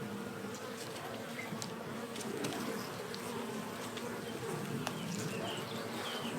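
A dense, steady hum of many honeybees buzzing close by at an opened nucleus hive, with occasional single bees zipping past and faint bird calls in the background.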